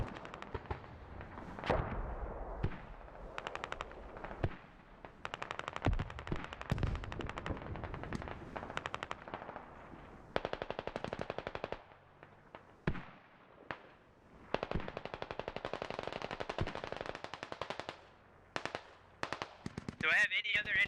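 Dense gunfire in the military shooter game Squad, with rapid automatic bursts and single shots stopping and starting for about twenty seconds, loud and close, plus a few louder bangs.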